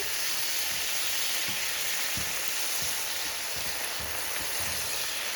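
Sausage and canned mixed vegetables, one can drained and one undrained, cooking down in a pan, giving a steady close sizzle with a few soft stirring clacks.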